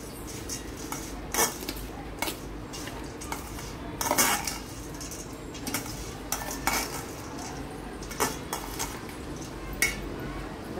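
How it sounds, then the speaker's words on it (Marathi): A spoon scrapes and clinks against a metal pot while food is stirred and mixed on the stove, with irregular knocks and scrapes over a faint sizzle and no talking. "त्याला छान असं मिक्स करायचं आहे बघा"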